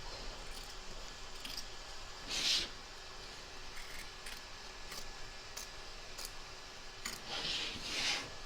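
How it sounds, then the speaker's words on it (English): Scissors trim excess batting around an embroidered applique stitch line, giving a few soft, brief snips spaced apart over a quiet background hiss. "Trim away the excess batting from around the edge of the stitch line"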